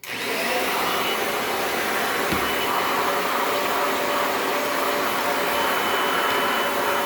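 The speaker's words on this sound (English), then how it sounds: "So, back to the vacuum." A vacuum cleaner runs steadily and loudly close by, a continuous broadband whine and roar that holds constant for the whole stretch with no talking.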